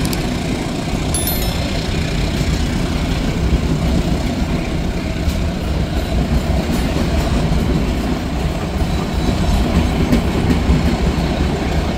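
Mutiara Timur passenger train rolling along the rails, a steady loud rumble with rhythmic clickety-clack of wheels over joints, heard from on board and continuous throughout.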